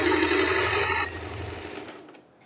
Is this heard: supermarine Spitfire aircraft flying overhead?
no